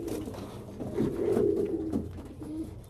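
Several pigeons coo softly inside a closed shipping carton, a low, muffled burbling that swells and fades over a few seconds.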